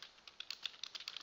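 Quick, light keystrokes on a computer keyboard while entering numbers into spreadsheet cells, a close, crisp run of irregular taps with no voice over them.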